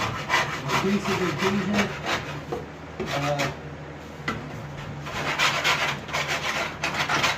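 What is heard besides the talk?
wood rasp filing a coyote mount form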